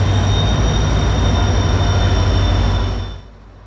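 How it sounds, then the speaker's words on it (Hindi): A train arriving at a railway station makes a loud, steady rumbling roar with a sustained high whine, fading out sharply near the end. "तो ये ट्रेन आ गई है, देखो।"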